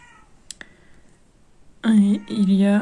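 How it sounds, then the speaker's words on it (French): A pet cat gives two loud, close meows in quick succession, breaking a quiet indoor room that holds only a couple of faint clicks beforehand. "il y a un chat qui veut parler"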